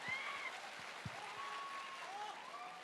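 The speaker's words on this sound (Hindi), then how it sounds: "एक बार जोरदार तालियां और बजा लो" An audience at a wellness company stage event claps together in a steady, even wash of applause that stays fairly quiet and distant.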